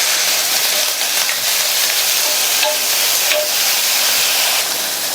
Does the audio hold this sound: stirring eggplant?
yes